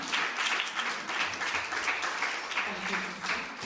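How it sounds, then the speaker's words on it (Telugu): Congregation at a women's Christmas gathering in a church gives a round of applause, a moderately quiet, continuous wash of clapping with voices mixed in beneath. "మన చప్పట్లతో మనం గౌరవించాము"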